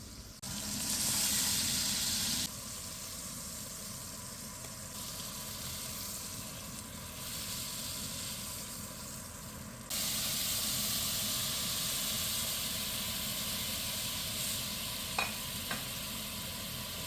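A steak sizzles steadily on a hot Blackstone griddle, a continuous close hiss of frying that shifts in loudness partway through, with a couple of faint clicks near the end.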